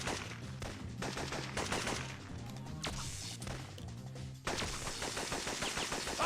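Rapid, loud gunfire in a PlayStation Classic game, a dense burst of repeated shotgun blasts and impacts filling the scene with no talk.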